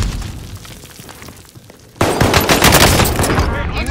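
In the Warzone video game, a frag grenade blast bursts in after a quieter stretch, followed by loud sustained gunfire and rumbling close by.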